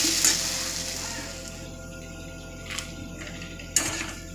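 Banana flower ghonto with chickpeas fries softly in a pan, a low sizzle with a few brief scrapes of stirring near the end; quiet and close, no voices.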